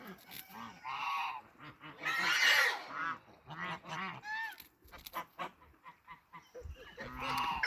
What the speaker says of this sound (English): my ducks and geese, enjoying the sounds that they make